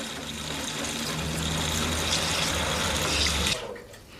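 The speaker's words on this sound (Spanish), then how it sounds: "Lo vierte suavemente en la canoa." Sherry wine poured gently through a canoa, a small spout that sprays it into the cask, a steady rushing stream of liquid that stops abruptly near the end.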